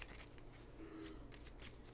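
Magic: The Gathering cards from a graveyard pile being shuffled by hand, a soft continuous papery riffle and rustle with light crackly flicks, close and quiet, no voices.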